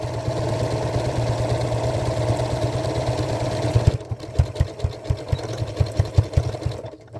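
A sewing machine stitching a tote bag, first a steady fast whir, then slower, distinct rhythmic stitch thumps close by.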